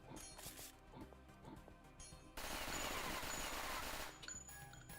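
Rapid gunfire from a low-recoil gun in a video game, a dense sustained burst lasting a couple of seconds after scattered earlier shots and clinks, with a voice talking over the start.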